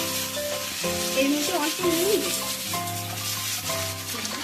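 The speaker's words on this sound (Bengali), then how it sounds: "এর মধ্যে টুকরো করে কেটে রাখা পেঁয়াজ, টমেটো, ক্যাপসিকামটা দিয়ে দেব।" Chopped onion, tomato and capsicum fry in hot oil that was tempered with green chilli and nigella seeds, giving a steady, close and loud sizzle throughout, while a voice talks briefly over it.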